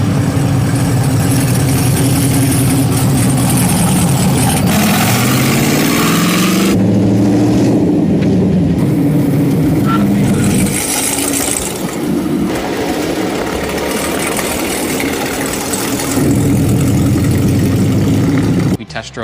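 A 1969 Chevrolet Camaro engine runs during a short shakedown test drive, a steady loud rumble with shifting revs and tonal changes, continuous and close throughout.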